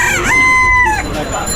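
A desi rooster crows loudly and close by in a busy Dhaka poultry market, one long sustained call with a rising start and a falling end over crowd noise.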